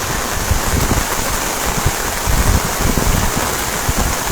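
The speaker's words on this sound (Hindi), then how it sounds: "इस समय भारी बारिश हो रही है और यहाँ पे देख सकते हैं कि कितनी ज़्यादा तेज़ बारिश" Heavy rain pours at Salal Dam on the Chenab River during a downpour, a dense, steady broadband hiss and roar with rushing water underneath, loud and continuous with no voices.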